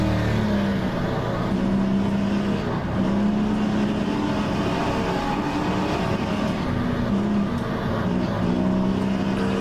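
Race car engine in the rFactor 2 racing game's Aussie Legends mod, droning and rising and falling in pitch through gear changes, loud and continuous with no talk over it.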